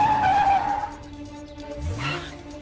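A car skids and sputters as it malfunctions, a loud tire squeal and engine whine at first, then a whooshing slide ending in a falling groan, with no talk over it.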